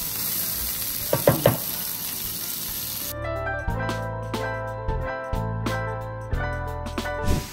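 Onion sizzles and sautés in a frying pan on a stovetop, a close, steady frying hiss broken by sharp clacks and scrapes of a utensil stirring against the pan, with no talking.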